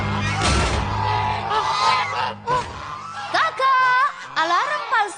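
Loud goose-like honks from a cartoon goose in My Little Pony: Friendship Is Magic, in a rapid sequence, rising and falling calls near the listener, mixed with a voice and busy background sound.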